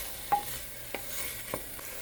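Sausage browning alongside sweating red onion in a pan gives a faint, soft sizzle with a few quiet stirring scrapes spaced about half a second apart.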